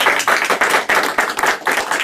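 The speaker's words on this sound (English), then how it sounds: "let's give an applause for" Audience applause at an entrepreneurship talk, a dense crowd of hands clapping steadily with slight pulsing swells, fairly close and loud, with no voices over it.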